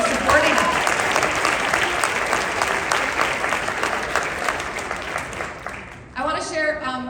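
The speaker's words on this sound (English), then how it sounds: "Round of applause for yourselves for supporting us." Audience gives a round of applause at a high school jazz ensemble concert, a loud, dense wash of clapping that fades toward the end before a voice starts speaking.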